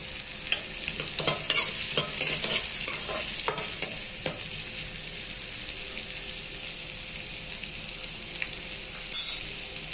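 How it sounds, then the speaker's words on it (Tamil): Small onions sautéing in a pan for a mutton coconut milk curry hiss with a steady sizzle, while a spoon stirs and scrapes in the first half, then the frying settles into an even hiss with a brief clatter near the end. "கொஞ்சம் வெங்காயம் வதங்கி வரட்டும்."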